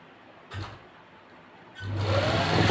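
A sewing machine stitches a salwar, first a short burst, then a pause, then a sustained run that grows steadily louder and faster, close to the listener with no talking.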